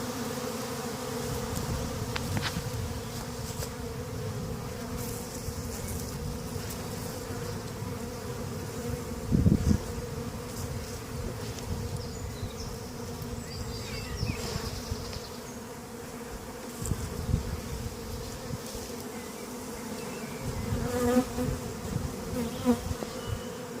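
A dense, steady buzz of many bees in an open hive during spring cleaning, close and continuous, with occasional louder wingbeats passing near.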